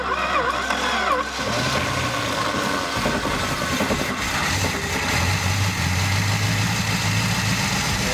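A 1965 Dodge Dart with a 318 V8 and four-speed, revived after sitting for years, idles loud and close, its rough, uneven rumble shifting in tone partway through.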